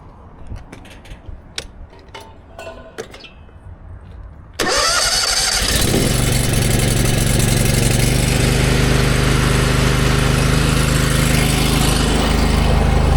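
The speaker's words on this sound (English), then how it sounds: "And our engine came on at 12:27." An engine, used to power equipment for cleaning a large plaza, catches after a few seconds of quiet clatter and then runs loud and steady, a constant close roar holding to the end.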